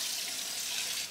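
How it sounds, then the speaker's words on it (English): Hot water running steadily from a tap into a sink while preparing a Thanksgiving turkey, a continuous close hiss of flowing water with no pauses. "No, it's hot water."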